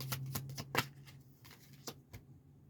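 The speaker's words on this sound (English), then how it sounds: "So let's shuffle these up a little bit, the clarifiers" Tarot clarifier cards are shuffled by hand in a run of crisp riffling snaps and soft slides, close and fairly quiet, with no talking.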